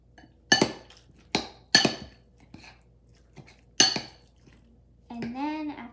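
Guacamole ingredients being mixed in a bowl with a utensil, producing a few distinct, close clinks and knocks against the bowl with quiet gaps, followed by a brief spoken voice.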